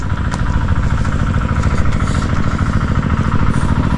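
A loud, steady engine idling up close, a continuous rumbling chug with no pauses and no voices.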